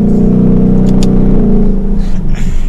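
A 2022 Ford Mustang GT Premium coupe with a 10-speed automatic pulls hard under acceleration, a loud, deep engine drone rising steadily, with a brief dip near the end as the transmission shifts.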